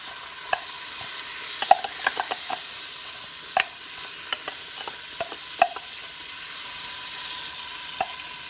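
Shredded carrot and finely chopped onion saute in butter for ham potato soup, giving a soft continuous sizzle with scattered sharp scrapes and taps of a spoon stirring in the pan. No one speaks.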